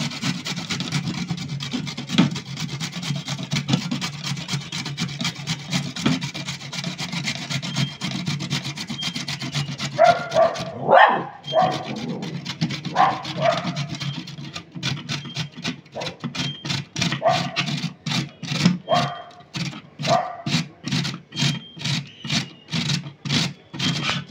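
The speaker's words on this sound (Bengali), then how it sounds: "এই দেখুন, এইভাবে ঘষাতে আমি ঘষে নিচ্ছি।" Radish being rubbed against a grater, a steady rasping scrape that turns into a rapid run of distinct rhythmic strokes toward the end, close and fairly loud with no talking.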